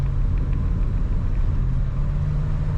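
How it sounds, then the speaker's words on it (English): A 1978 Cadillac Eldorado accelerates hard as the transmission kicks down, giving a steady, loud low engine rumble and road drone heard from inside the car, with no talking. "Pushing that throttle down, the transmission does kick down."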